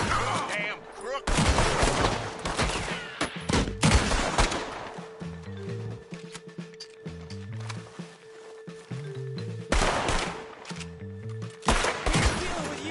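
Repeated gunfire exchanges in Red Dead Redemption 2, loud volleys of shots in clustered bursts with a lull in the middle, while someone shouts over the fighting.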